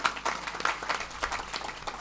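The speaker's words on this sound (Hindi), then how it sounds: "बजाओ एक बार जोरदार ताली" A village audience at a Chhattisgarhi Ramayan performance claps steadily in dense, even bursts, moderately distant and fairly quiet throughout.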